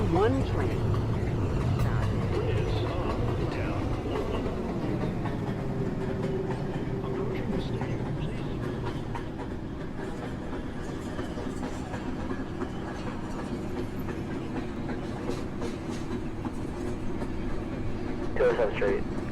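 A New York City subway 1 train rumbles steadily along the track, its loud, continuous roar and rail noise dominating throughout with slight swells, heard from on board without clear talk.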